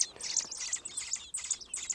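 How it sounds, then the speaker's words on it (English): Four baby robins only a few days old chirping and peeping in a busy, continuous high-pitched chorus, close by, with short overlapping calls and brief pauses. "This is four little robins, and they're just little babies, only a few days old."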